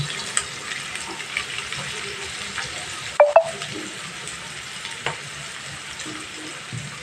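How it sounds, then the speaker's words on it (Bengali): Chopped onions fry in a pan over a medium flame, giving a soft, steady sizzle with a few brief clinks of a utensil against the pan. "পেঁয়াজটা একটু ভাজা ভাজা করে নেব"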